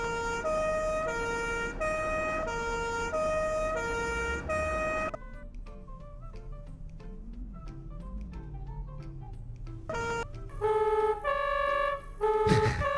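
A Frankfurt fire department vehicle's electronic warning tone repeats in a steady two-note pattern, then shifts to a low warbling motor-like drone, like an old car engine, before rising beeps return.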